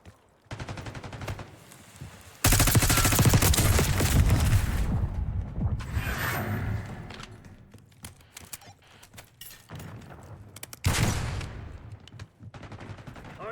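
Bursts of automatic gunfire in the video game Black Ops 6 come in loud, dense sustained volleys with short gaps between them, mixed with game effects and no speech.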